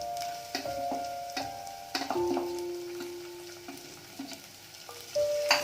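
Tomatoes and onion fry in a pan for a village-style chicken rassa, a soft sizzle under scattered clinks and scrapes of a spoon stirring, with a few tonal metallic rings from the utensil against the pot.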